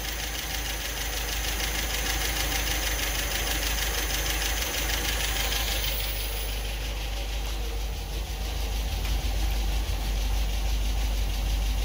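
Engine of a 1974.5 MGB running at a steady idle, a continuous low knocking rumble with even vibration, close and moderately loud throughout.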